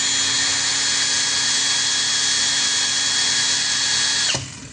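A Dongcheng 2040i cordless drill runs at full speed, a loud, steady high-pitched whine with motor hum that holds constant and then winds down abruptly near the end.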